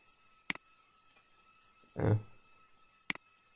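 Two sharp clicks from a computer mouse, about two and a half seconds apart, with a short muffled rustle or thump between them; close and isolated, no talking.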